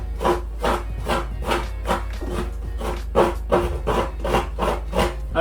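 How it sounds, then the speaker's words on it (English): Dry coconut being scraped on a hand grater in a home kitchen, a steady rhythm of rasping strokes about two per second, close and clear with no talking. "I have my grater here, so I'll grate this coconut out"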